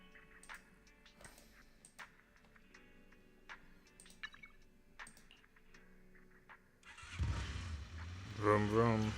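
A vehicle engine in the video game Zenless Zone Zero roars up loudly over the final two seconds, after a stretch of quiet clicks and faint background sounds.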